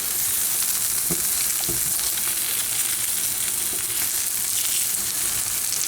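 American-style pancakes frying in a pan give a constant, bright hiss of sizzling, with a few soft scrapes and knocks from a utensil and no voices.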